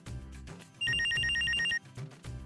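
A telephone rings loudly in a short, steady burst between stretches of background sound in a domestic comedy scene, with no talk over the ring itself.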